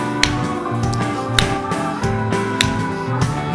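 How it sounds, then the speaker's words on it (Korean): A church congregation clapping along in rhythm to a lively bossa nova–style hymn during Sunday worship, sharp regular claps repeating over sustained music. "우리 박수치며 찬양할까요?"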